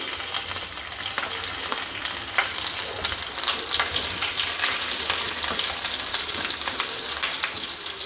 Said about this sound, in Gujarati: તેલ ગરમ થતાં અડધી ચમચી મેથી અને અડધી ચમચી રાઈ ઉમેરશું